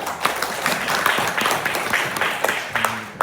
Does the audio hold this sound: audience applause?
yes